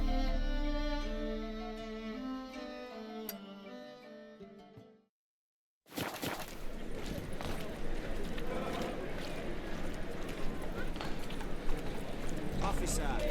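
Hooves of Roach, a horse in the video game The Witcher 3, clip-clop steadily after a short silence, mixed with bustling background noise and under bits of speech, and melodic music plays beforehand.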